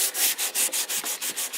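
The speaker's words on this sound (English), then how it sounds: "we'll pick up some 120 sandpaper and just give it a little light sanding" Light hand sanding of antique timber with 120-grit sandpaper: rapid, even back-and-forth rasping strokes, close and crisp, about nine strokes with no other sound.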